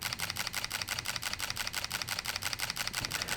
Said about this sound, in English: You would start the shutter.